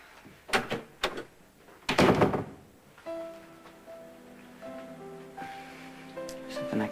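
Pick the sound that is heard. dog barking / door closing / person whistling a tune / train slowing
door closing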